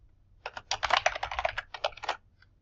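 Rapid typing on a computer keyboard while logging in: a quick, steady run of crisp key clicks lasting about two seconds, close and clear, followed by one last tap.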